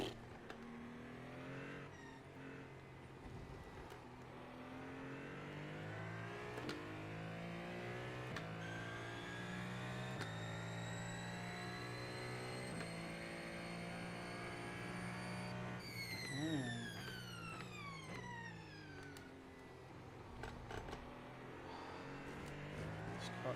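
A race car engine in iRacing at Sebring revs and drops through gear changes, its rising and falling harmonic whine sustained and loud, with sharp shifts and a brief wobble mid-run.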